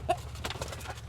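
Chickens clucking softly inside a farm coop, a few short, faint murmuring calls over a low background hum.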